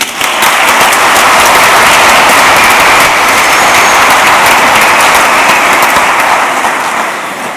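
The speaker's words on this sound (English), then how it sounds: "I'd like it if everyone could extend to them a well-deserved round of applause" Sustained applause from an audience at a career and technical education recognition ceremony, a dense, steady wash of many hands clapping that stays loud and even throughout without any talk.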